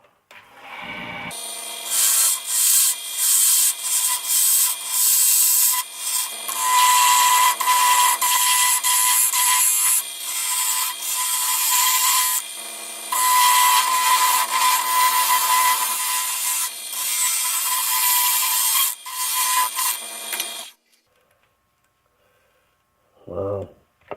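A sharpened wood-turning gouge cuts a mystery-wood Halloween box spinning on a lathe, giving loud, harsh scraping and shaving bursts in repeated long passes with brief gaps, then stopping abruptly near the end.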